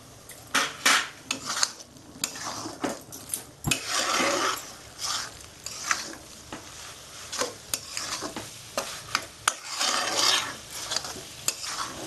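Egg and tomato fry being stirred in a pan Bengali style, with repeated scraping and clinking of a utensil against the pan over a steady sizzle, close and continuous throughout.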